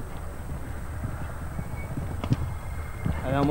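Horse hooves thud and clop on the ground at an Italian show jumping championship, soft low beats running under commentators' speech with a faint whinny near the end.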